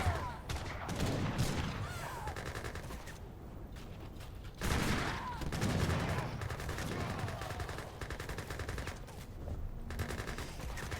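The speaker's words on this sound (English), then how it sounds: "That is a lot of firing power with the heavy Gatling guns" Heavy Gatling guns in an Age of Empires 3 battle rattle out rapid, overlapping bursts of fire amid other battle noise, with surges of dense shooting and lighter stretches between.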